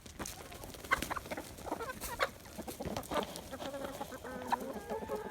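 Hens and a grouchy rooster peck at black soldier fly larvae treats, giving soft, scattered clucks and short murmuring calls close by, with small pecking clicks between them.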